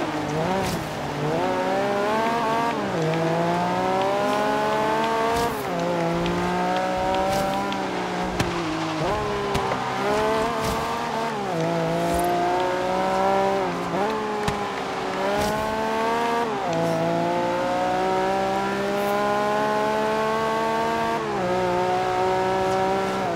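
Race car engines in the Forza video game wail continuously, climbing and dropping in pitch through repeated gear shifts and corners, with brief tire squeals and a voice talking over the driving.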